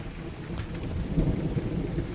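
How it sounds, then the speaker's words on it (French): Heavy rain pours steadily while a low roll of thunder rumbles underneath, close and continuous. "il commence à pleuvoir des cordes"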